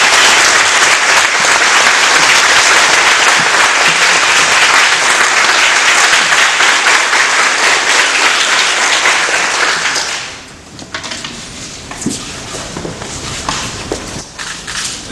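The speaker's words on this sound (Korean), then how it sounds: "큰 박수로 환영해 주시기 바랍니다." Loud, sustained applause from a university lecture-hall audience welcoming the WHO Western Pacific regional director to the podium, a dense wall of clapping that fades out after about ten seconds into scattered claps and room noise.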